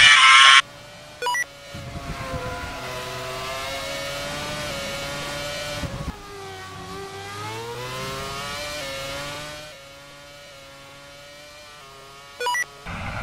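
Race car engine in the Superleague racing video game, a loud sustained whine that climbs through the gears, dipping and rising again with each shift and on through corners.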